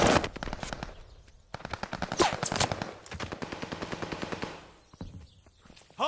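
Gunfire in the video game Call of Duty Vanguard: rapid automatic bursts of machine-gun shots in a steady rattling rhythm, loud and continuous across the stretch, with brief louder blasts mixed in.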